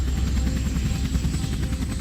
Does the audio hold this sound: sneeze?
no